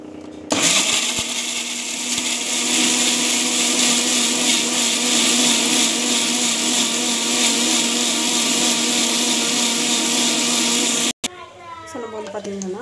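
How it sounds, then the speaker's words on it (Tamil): A mixer grinder whirs loudly and steadily for about ten seconds grinding kurma ingredients, then cuts off abruptly, followed by a short quieter tail. "மிக்ஸியில் போட்டுட்டு அரைச்சிக்கலாம்."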